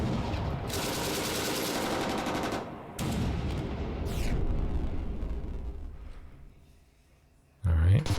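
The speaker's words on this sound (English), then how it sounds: "So let's use our machine gun too." Tank machine gun fire in Armoured Commander II, sustained loud bursts of rapid shots rolling on for several seconds, easing off into a quieter lull before a sharp loud burst returns at the end.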